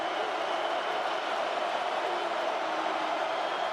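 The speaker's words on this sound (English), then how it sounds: "Listen to this crowd." A video game stadium crowd in Morgantown, from NCAA Football 2025 during TCU at West Virginia, makes a steady, even roar. The sound is a faint, continuous wash of massed noise with no distinct voices.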